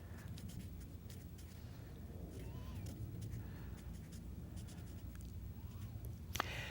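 Pen drawing stick figures on paper, heard as faint, steady scratching strokes that continue throughout with a quiet background, ending in a brief sharper tap.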